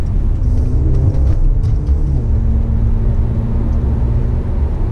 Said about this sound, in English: I wish I had a little microphone on the exhaust for you.